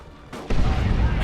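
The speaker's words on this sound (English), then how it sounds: "Shotgun Blast here onto Dire Avengers, along with a grenade as well" A shotgun blast and grenade explosion from the strategy game Dawn of War strike Dire Avengers, starting as a soft rumble and then jumping into a loud, sustained wall of booming gunfire that continues to the end.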